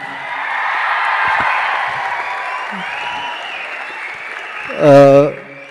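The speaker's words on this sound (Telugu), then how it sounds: "నా కోసం వీళ్ళందరికీ ఒక్క huge round of applause please." An audience at a film pre-release event applauds in a broad, steady wash of clapping from a sizable crowd, then a loud voice over a sound system cuts in near the end.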